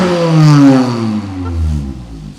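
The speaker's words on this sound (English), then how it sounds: "And this is what Rishi the Honda Jazz sounds like." A Honda Jazz fitted with a Lamborghini exhaust revs loudly, with a deep throaty note that climbs and then falls away, close and alone.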